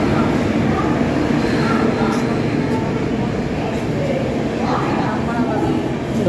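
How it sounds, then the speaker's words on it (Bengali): The 22892 Ranchi–Howrah Intercity Express pulls into a terminal station platform with a continuous low rumble and rolling drone, heard under nearby voices talking. "আর ওই যে আমাদের ট্রেন ঢুকছে 22892 রাঁচি হাওড়া ইন্টারসিটি এক্সপ্রেস।"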